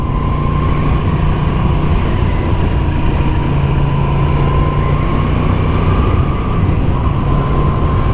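Moto Guzzi V7 Sport motorcycle engine on the move, a steady loud drone with a low rumble and a sustained whine that holds evenly throughout, with no talking.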